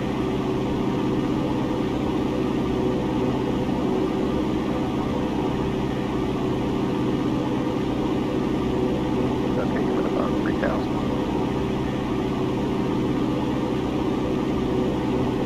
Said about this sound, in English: Boise Tower 10 left, clear for takeoff.